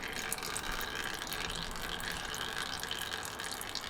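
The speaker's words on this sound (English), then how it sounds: "Oil is now draining out of our turbo." Oil drains out of a car's turbo while the engine is cranked to check oil pressure, producing a faint, steady liquid trickle that continues without a break.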